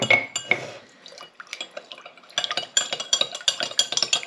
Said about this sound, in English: I'm going to put in half a teaspoon of sugar and just dissolve